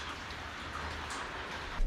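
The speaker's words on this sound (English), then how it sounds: "it's been constant rain up till now." Steady constant rain falls during a storm in Australia, a dense even hiss of drops without breaks, moderately quiet and with no talking.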